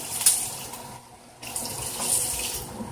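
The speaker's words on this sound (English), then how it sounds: "I will put some more water in there" Water runs from a faucet and splashes steadily into a pan of chicken cooking on the stove, the stream nearly constant apart from a short break before it starts flowing again.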